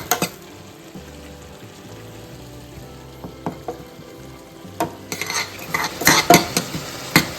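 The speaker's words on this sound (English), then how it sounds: "Grated coconut, stir continuously and roast till golden color." Grated coconut is stirred and roasted in a pan over low heat, a spoon scraping and clinking against the metal in irregular strokes while a faint sizzle rises, growing louder and busier toward the end.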